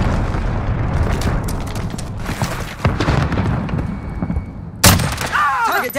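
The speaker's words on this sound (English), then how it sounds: "Enemy cruise missile!" A cruise missile explodes in the video game Call of Duty: Modern Warfare, a sharp loud boom rising from an ongoing rumble of gunfire and battle noise, with a voice calling out nearby.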